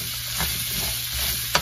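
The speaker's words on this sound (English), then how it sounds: "We have to stir fry it for at least 3 to 5 minutes to make the carrot and other vegetables soft." Chicken with carrots and other vegetables stir-frying in a pan, a loud continuous sizzle close up with a couple of brief scraping stirs of the spatula.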